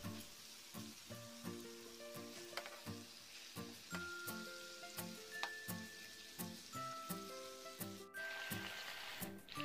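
Chicken pieces fry in half a cup of oil in a kadai with onions, giving a steady close sizzle broken by regular clinks and stirring taps. No one speaks.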